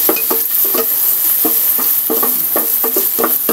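Garlic, onion and ginger sautéing in a pan for chicken rice porridge, a steady loud sizzle broken by repeated scraping stirs of a utensil, with no one talking.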